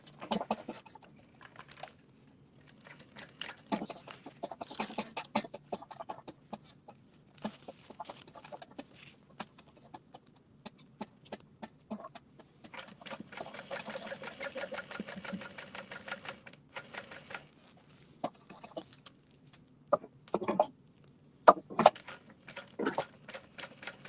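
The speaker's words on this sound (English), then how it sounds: "I've got both sides of the gusset attached. So now I can top stitch." Sewing machine top stitching the gusset of a Rosie Sling, running in short intermittent bursts with pauses, fairly quiet and close.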